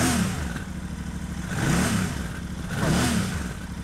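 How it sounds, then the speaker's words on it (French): A Royal Enfield motorcycle on its stock silencer with catalyst revs in repeated rising and falling swells, a muffled mid-pitched exhaust tone that stays fairly soft and close. "Là, on est sur un son d'origine, un silencieux d'origine, forcément,"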